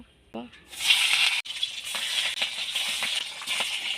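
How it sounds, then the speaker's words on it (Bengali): Pabda fish hitting hot mustard oil in a kadai, a sudden loud sizzle that settles into steady crackling and spitting, close and continuous. "এবার পাবদা মাছগুলো আমি হালকা ভেজে নেব"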